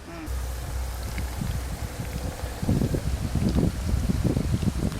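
Wind blows outdoors while chicken is fried for chilli chicken, a low, steady rumble that buffets the microphone harder in gusty bursts during the second half.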